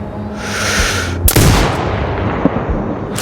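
A sniper rifle shot in the video game Sniper Ghost Warrior 2: a single loud, sharp crack about midway, with a booming tail that fades and a brief fainter report near the end.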